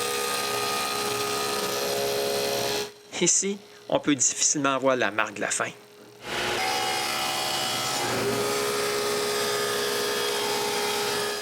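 A power saw cuts grooves into wooden door casing pieces, a loud steady whine that drops out briefly while someone speaks, then resumes cutting.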